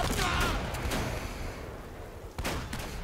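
Gunfire in the video game Uncharted: Drake's Fortune: a loud burst of shots at the start that fades into a rumbling tail, then another sharp shot near the end.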